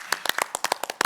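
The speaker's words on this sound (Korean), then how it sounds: "다 고생했다고 또 한번 박수 치시죠" A short burst of clapping at the close of a televised 2022 presidential candidates' debate, a handful of distinct, close hand claps in quick uneven rhythm from a small studio group.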